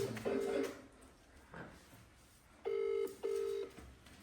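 Phone call being placed from a mobile: a few short dialing tones, then two clear, evenly spaced ringback tones that go unanswered, all fairly quiet with no talking.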